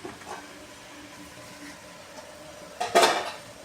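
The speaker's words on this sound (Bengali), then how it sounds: "ঢাকনাটা খুলছি" A lid lifts off a steaming pot holding a stuffed semolina-potato dish, one sharp metallic clank and a brief rush of steam hiss after a quiet stretch of faint kitchen hum.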